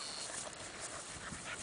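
A newborn black male puppy whimpers softly and steadily over a faint, even hiss, close by and on its own with no voices.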